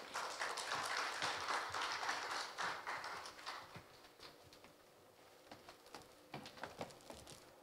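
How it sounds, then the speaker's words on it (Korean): Applause from an audience at a public hearing welcomes a speaker, dense at first, then thinning into scattered individual claps. "공정식 교수님을 박수로 맞아주시면 고맙겠습니다"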